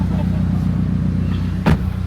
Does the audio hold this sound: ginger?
no